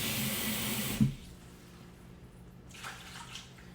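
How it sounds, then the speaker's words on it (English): Water from a tap pours into a Ninja Foodi pressure cooker pot in a kitchen, a steady rushing stream for about a second that stops abruptly, followed by quiet room tone with faint small clinks. "Just pour some water in there."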